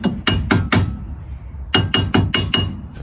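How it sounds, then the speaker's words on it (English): Hammer taps on a wheel hub bolt of a 2011 Jeep Grand Cherokee during a hub replacement, four sharp metallic knocks, a short pause, then five more in quick succession, close and alone. "Just an easy little tap there to get that bolt lined up."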